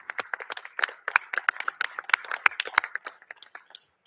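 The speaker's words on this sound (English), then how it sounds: "So could we give them all a round of applause," A small group claps at a school board of education meeting, sparse individual hand claps scattered unevenly, fairly close and separate rather than a dense roar.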